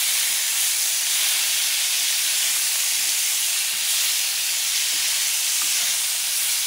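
Cubes of beef sear in a hot pan before braising in red wine sauce, a steady loud sizzle and hiss with no talk.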